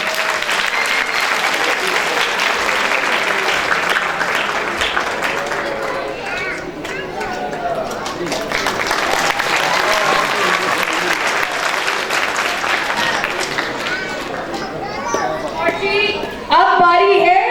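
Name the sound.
audience applause at prize ceremony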